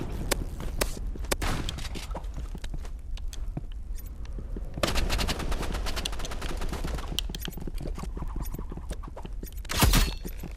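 Gunfire rings out in the video game Rivals as rapid bursts of sharp shots, some dense automatic strings and single cracks, with a loud burst near the end, all close and steady.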